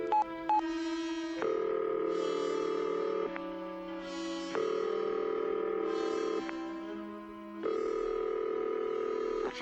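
Telephone dialing tones in an old-time radio drama, a sequence of steady electronic tones stepping between pitches, close and clear with no talk.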